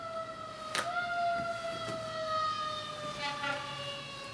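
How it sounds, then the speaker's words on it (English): An emergency vehicle siren passes outside, heard from indoors as a steady wailing tone that slowly shifts in pitch, moderately faint and sustained throughout. "I'm just gonna sit here until the siren passes."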